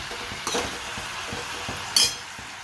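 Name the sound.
stirring drumsticks (saragva) frying in a pan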